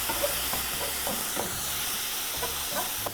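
Steady sizzling hiss from a frying pan, with faint stirring clinks and scrapes scattered through it.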